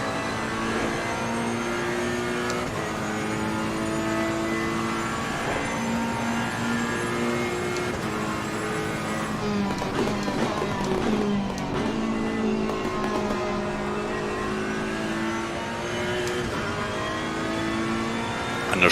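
GT3 race cars at Monza in a racing game drone steadily, with engines revving up and shifting through gears in a rising, stepped pattern as another car passes close alongside.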